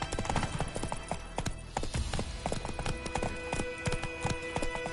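A horse gallops in The Witcher, its rapid hoofbeats clip-clopping in a steady, driving rhythm over a continuous background of game sound, close and clear throughout.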